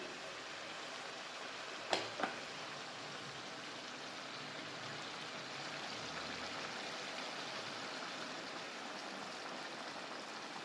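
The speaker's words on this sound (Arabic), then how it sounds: "هننزل بقى بالميه السخنه" Hot water poured into a pot of chicken for a one-pot chicken kabsa, a steady, even rushing pour heard close and softly throughout, with a couple of brief knocks near the start and no talk.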